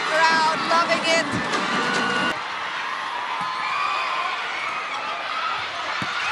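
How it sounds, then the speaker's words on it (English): Volleyball crowd cheering at a Cignal vs. Creamline PVL semifinal, a loud broad roar that starts under an announcer's voice and then carries on alone, steady and full. "And the crowd loving it"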